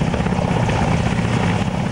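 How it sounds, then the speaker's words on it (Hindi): An Air Force helicopter over a river in Poonch gives a dense, loud, continuous rotor and engine roar with a steady chopping pulse, heard alone. "जम्मू कश्मीर के पुंछ में वायुसेना का हेलीकॉप्टर पूरी ताकत से गरज रहा है"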